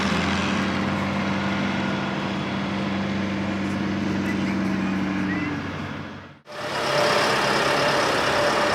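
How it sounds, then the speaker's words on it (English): A big tractor runs at a boat slipway in Normandy, a steady engine drone with low tonal hum that holds for several seconds, briefly dips away, then returns at similar loudness. "otherwise we get run over by a big tractor"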